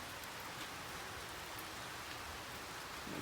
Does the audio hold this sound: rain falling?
yes